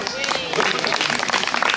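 Crowd applause at a medieval festival in Soignies, with dense clapping and cheering voices blending into a steady, loud wash of crowd noise throughout.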